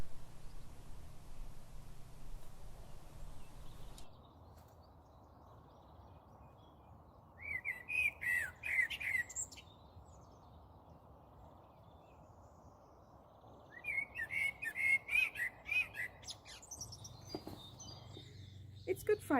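A songbird chirps in two short bursts of clear, bright calls over steady outdoor background hiss, heard partway along a dog walk with a voice talking at the very start.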